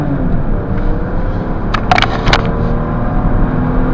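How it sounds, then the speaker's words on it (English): A BMW 528i car engine drones steadily with a low rumble, accompanied by a few brief sharp clicks and bursts midway, no voices. "this car has the most beautiful sound and ring to that engine"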